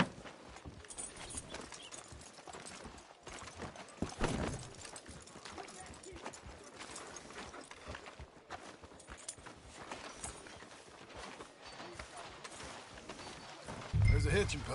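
Horse hooves clip-clopping steadily at a walking pace in Red Dead Redemption 2 online, a soft continuous rhythm running under people talking throughout.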